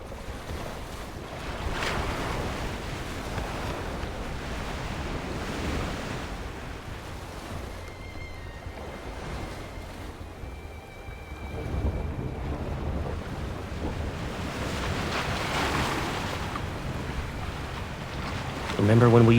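A speedboat rides through wind and waves in the video game Love and Deepspace, with a continuous rush of water and blustery wind that swells again near the end.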